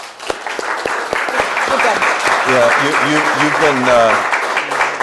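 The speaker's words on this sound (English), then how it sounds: "Let's give them a round of applause." Audience applause fills a lunch event for job seekers, steady clapping from a room of people throughout, with a voice speaking over it near the start and a brief spoken word.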